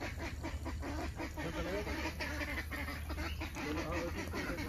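Several ducks quack and honk repeatedly in a noisy, overlapping chorus, close by and continuous, in a village in Dubai.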